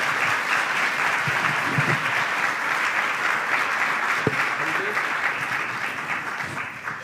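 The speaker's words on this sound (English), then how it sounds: "please give the panelists a round of applause for me if you will" An audience at a regional conference gives panelists a round of applause, a sustained wash of many hands clapping, steady and full, with a few faint voices underneath.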